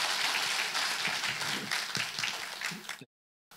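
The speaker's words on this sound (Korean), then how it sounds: "북콘서트의 문을 열어주신 김선태 신부님께 다시 한번 큰 박수 부탁드립니다." An audience at a book concert gives a warm round of applause for a priest. The clapping is dense and full for about three seconds, then stops abruptly.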